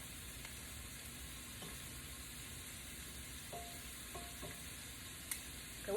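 Shrimp frying in a pan, a faint steady sizzle with a few small clinks and pops, heard alone without talk.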